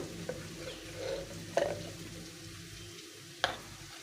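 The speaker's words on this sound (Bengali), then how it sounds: "দুটো পেঁয়াজ দিচ্ছি দিয়ে এটাকে ভালো করে একটু ভেজে নেব" Chopped onions with minced garlic fry in a pan for a chickpea ghugni, giving a low, steady sizzle broken by a few sharp clinks and scrapes of stirring.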